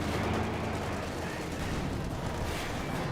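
Tank and infantry gunfire in a Company of Heroes 2 battle, a dense continuous wash of distant shots and rumbling blasts with no clear individual reports, steady and fairly loud throughout.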